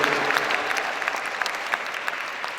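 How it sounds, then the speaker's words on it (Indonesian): A crowd applauding at a Quran school orientation for new students, with dense, steady clapping that stays even throughout, moderately loud. "Tepuk tangan untuk Madrasatul Quran."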